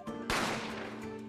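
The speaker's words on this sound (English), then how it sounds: "A gunshot rang out, so I hurried out to the dining area to see what had happened" A single gunshot effect from the game The Great Ace Attorney Chronicles cracks sharply over a quiet background of game music, then decays in a short reverberant tail.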